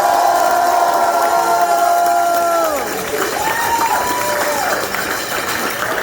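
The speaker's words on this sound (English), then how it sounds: "Let's give Andy another round of applause." A get-out-the-vote rally crowd cheers and whoops, with rising and falling shouted voices and loud crowd noise carrying over scattered clapping for several seconds.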